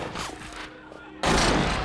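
Gunfire from the film Hell or High Water, with a short volley of shots followed by a sudden loud, sustained blast of firing that fills the second half.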